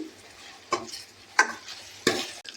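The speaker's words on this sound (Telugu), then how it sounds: "టమాటాలు బాగా ఫ్రై అవనిద్దామండి" Tomatoes frying in oil in a pan, giving a soft sizzle with three distinct scraping stirs spaced about evenly, close and fairly quiet.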